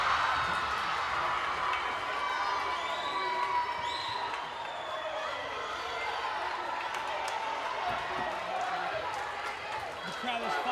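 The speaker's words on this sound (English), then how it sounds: "The crowd is fired up, folks." Crowd cheering and roaring at a women's volleyball match, a dense sustained wash of voices and shouts throughout, with an announcer talking over it.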